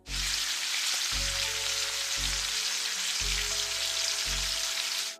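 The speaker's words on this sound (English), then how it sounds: "You might love the sound of bacon sizzling in the pan." Steady, loud crackling and hissing of bacon frying in a pan, continuous and close, with a low rhythmic thump underneath.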